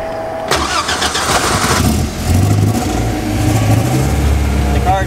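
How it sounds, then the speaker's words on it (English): A very large car engine, powered by an XS Power SuperBank ultra capacitor, cranks briefly, then catches and settles into a loud, close idle. "The car starts right up."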